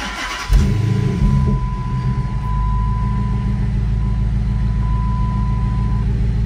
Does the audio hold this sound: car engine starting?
yes